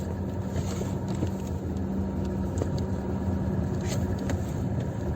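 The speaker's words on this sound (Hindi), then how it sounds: "धीरे धीरे चल रही है गाड़ी।" Car creeping slowly in heavy traffic, heard as a quiet, steady low engine and road hum from inside the vehicle, with faint wind noise and no speech.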